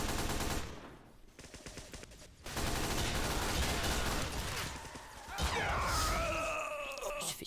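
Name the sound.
sniper rifle gunshot in Team Fortress 2 video game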